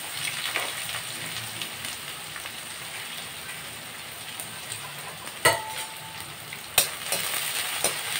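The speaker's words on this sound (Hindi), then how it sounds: "प्याज को मुझे अच्छे से ब्राउन कर लेना है।" Onions browning in a pan give a soft, steady sizzle, with occasional scraping stirs and a couple of sharper clinks of a utensil against the pan, close and moderately quiet, with no speech.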